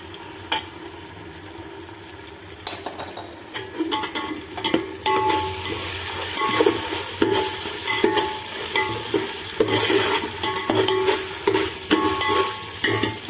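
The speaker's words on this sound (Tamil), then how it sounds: "சட்டியில் ஒட்டாமல் நம்ம நல்லா கிண்டி விட்டுறோம்." Ginger garlic paste being stirred as it fries in a pan for biryani, a steady close sizzle with repeated scraping strokes of the spoon, growing louder midway and continuing alone.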